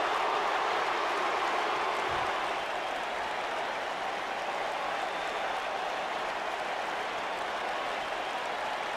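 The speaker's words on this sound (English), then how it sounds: "this Philadelphia crowd is beyond boisterous tonight" A boisterous Philadelphia arena crowd roars through a Royal Rumble women's wrestling match between Bayley and Beth Phoenix in a WWE 2K game. The cheering is a constant, loud wash of noise with no break.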